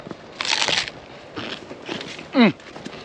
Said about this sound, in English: Some crunchy cabbage. Got a little bit of bite to it.